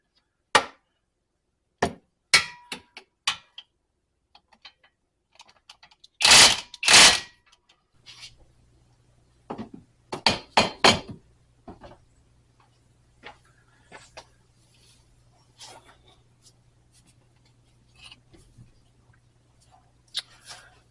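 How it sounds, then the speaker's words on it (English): Rear axle bolts being worked loose on a Lotus Esprit during engine removal, scattered sharp metallic clicks and taps, a couple of louder ratcheting bursts, and a low steady hum in the background. "We're going to hit these bolts right here."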